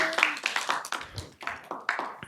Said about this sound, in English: Give yourselves a round of applause. Clap for yourselves.